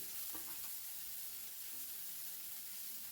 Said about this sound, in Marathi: लसूण टाकून मिरची टाकली आणि त्याच्यानंतर कांदा टाकणार